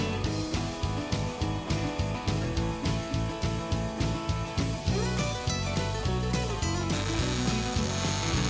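A ratchet wrench bolts a transmission cross member into a truck frame, with steady rapid clicking strokes in an even rhythm up close, then faster, denser ratcheting toward the end, loud and alone.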